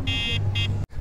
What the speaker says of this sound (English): Can you sound the alarm?